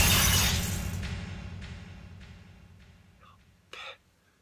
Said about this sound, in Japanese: これを窓ガラスに投げたら一体どうなるんだろう